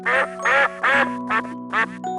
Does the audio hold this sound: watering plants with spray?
no